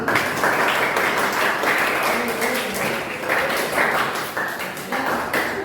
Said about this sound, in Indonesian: bisa aplaus sekali lagi